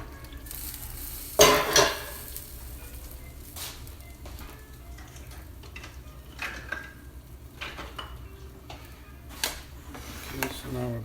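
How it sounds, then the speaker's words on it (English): Cooked cavatappi pasta is stirred into sauce in a pan, giving soft, wet scraping and clinking sounds, with a louder clatter early on and occasional light knocks over background noise. "now we're blending this pasta and the sauce"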